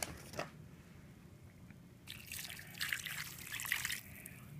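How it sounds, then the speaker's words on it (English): A cup of water is poured into a crockpot over chicken, stuffing and frozen green beans, a faint close trickle and splash that builds over a few seconds. "And then now you put in a cup of water."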